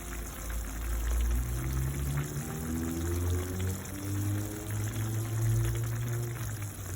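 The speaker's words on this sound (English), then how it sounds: "So next I'm going to add some ketchup to thicken that sauce." Ketchup goes into the simmering sauce of a Jamaican-style brown stew chicken, making a soft, continuous pouring, gurgling sound for several seconds, with no speech.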